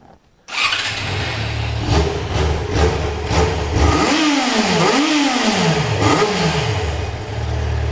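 Yamaha XJ6 motorcycle with its stock exhaust starting after a brief silence, then idling with several quick revs rising and falling, close and fairly loud, no voices.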